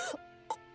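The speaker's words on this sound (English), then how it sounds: "Princess suddenly coughs up blood." A game character, a white-haired girl in her early teens, coughs up blood in Goddess of Victory: Nikke: two or three short, harsh, wet coughs close up, with a quieter sustained tone between them.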